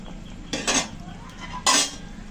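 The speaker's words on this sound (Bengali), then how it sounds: "এখন ভালো করে একটু মিশিয়ে নিচ্ছি।" A spoon stirs vegetable curry in a cooking pot with two short, close scraping strokes separated by a pause, over a low kitchen background.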